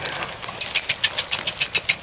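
A Ford Cortina GXL engine idles steadily, a rapid, even ticking pulse of roughly eight beats per second, close and moderately loud with no talk over it.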